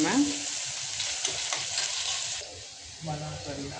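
Onion sautés in a pan for Mexican rice, a steady close hiss of frying with occasional stirring scrapes, easing toward the end.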